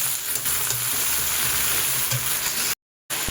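Vegetables seasoned with turmeric and salt lightly frying in a pan for a puin shak chachra (Malabar spinach stir-fry), a steady soft sizzle with faint stirring scrapes, close and continuous, cutting out briefly near the end.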